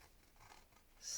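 Scissors snip through paper while cutting out an image for a papercraft stencil: a few soft, quiet, close cuts, ending in a brighter rasping slice.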